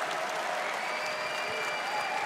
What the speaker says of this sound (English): Please make some noise for Rodjer from Nine Pandas